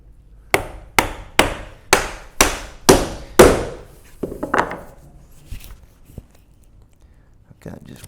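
Seven sharp, evenly spaced mallet strikes drive a chisel into a Moravian workbench, loud and close, followed by quieter scraping and low talk.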